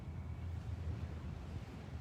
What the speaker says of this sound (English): coming to you live from the beautiful ocean.